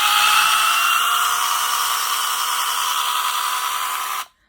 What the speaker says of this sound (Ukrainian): Потужна класна пилочка. Вона зараз працює на акумуляторі 20 вольт 4 ампер часа.